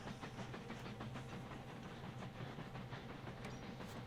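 Trains run along rail lines in the Mashinky railway game, a steady low rumble with faint clickety-clack under a constant hiss, quiet and continuous with no talk.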